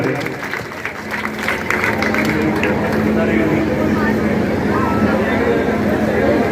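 An audience at a devotional Mata ka jagran claps together, a dense wash of applause that swells and holds steady, with crowd noise and voices mixed in.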